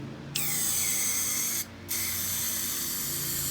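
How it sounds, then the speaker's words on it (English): Loud continuous aerosol spray of lubricant hissing close up on a motorcycle, with one short pause before a second long burst. "I'm gonna spray a bunch of lubricant."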